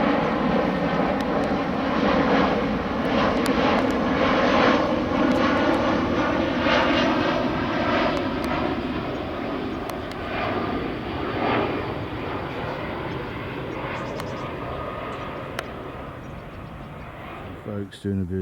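An easyJet airliner flies over a public footpath near Hampton in Arden, its steady engine roar loud and sustained, slowly fading toward the end, with people talking over it.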